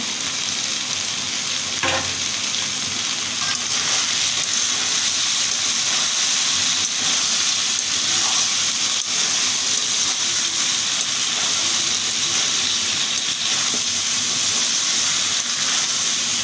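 Chicken meat sizzling with spices in a pan, a steady loud frying hiss with bubbling and occasional stirring scrapes throughout, no talking.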